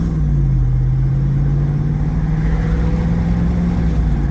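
A Jeep engine pulls away from a standstill, a steady loud mid-pitched drone with a rising tone as it accelerates, close and continuous with no talking.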